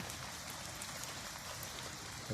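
Steady rain pattering down, a dense even hiss of drops hitting surfaces throughout, with no voices.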